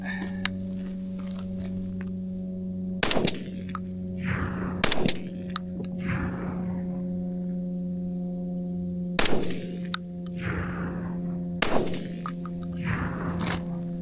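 A shotgun fitted with a turkey choke fires four sharp, loud blasts at uneven intervals outdoors, each trailing off in an echo, over a steady low hum.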